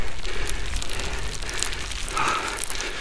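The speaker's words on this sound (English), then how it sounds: "That'll be the hail on again." Hail falls during a mountain bike ride at Glentress, a dense crackling patter that spreads evenly across the whole stretch, steady and fairly loud with no voices over it.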